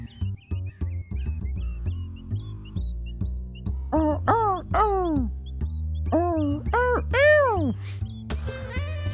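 Cawing crows from the video game Shadows Over Loathing: a string of rising and falling nasal calls layered over a steady, plucky rhythmic backing, growing more frequent toward the end.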